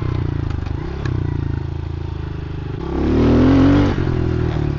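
A pit bike engine revs loudly and close by, a steady buzzing drone that climbs sharply in pitch and volume near the end, then settles back into a lower rumble.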